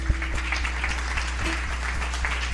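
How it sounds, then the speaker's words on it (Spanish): Church congregation applauding during a Spanish-language revival service, dense continuous clapping under a steady low hum, sustained and even throughout. "¿Cuántos le damos un aplauso al Espíritu de Dios?"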